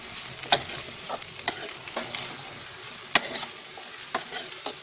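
Okra seasoned with salt, red chili powder and turmeric, tossed in a pan: a soft frying sizzle under a few sharp spatula scrapes and clicks at irregular intervals.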